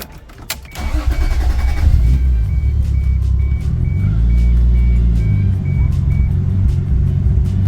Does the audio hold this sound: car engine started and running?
yes